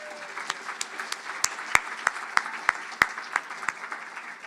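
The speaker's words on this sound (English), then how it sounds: "How about let's hear another round of applause for Stephen." An audience at an award celebration applauds Stephen, scattered sharp claps from a modest crowd heard at a distance over a few seconds.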